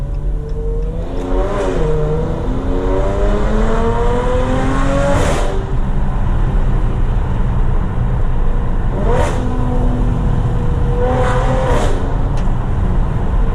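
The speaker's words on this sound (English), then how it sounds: "hear a little car noise" A Dodge Challenger's engine hums steadily throughout, with a few rising revs and whooshes of passing traffic, heard from inside with the windows open.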